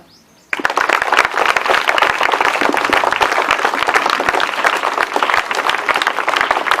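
Dense applause from a crowd of teachers and students at a Mathematics Day celebration in a school, steady loud clapping that bursts in after a brief quiet and continues evenly without talk.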